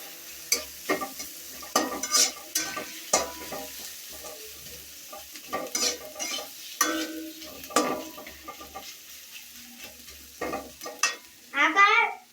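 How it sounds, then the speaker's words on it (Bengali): Onions and chilies fry in a pan while being stirred, with repeated scraping strokes over a soft, steady sizzle. The strokes come in uneven bursts, close and moderately loud, with no talking. "এখানে এই যে দিয়ে দিচ্ছি, পেঁয়াজ মরিচটা ভাজা ভাজা হোক"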